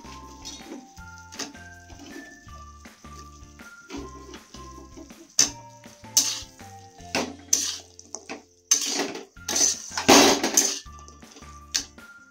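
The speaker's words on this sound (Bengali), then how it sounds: "এবারে আমি পনিরগুলো দিয়ে দেবো। দিয়ে ভালো করে নাড়াচাড়া করব।" Paneer cubes being stirred with spices in a cooking pan for matar paneer, a series of scraping and clinking knocks of a spoon against the pan, building to louder, busier clatter toward the end, with no talk.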